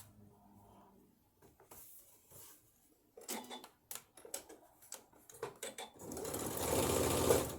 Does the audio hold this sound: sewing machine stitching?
yes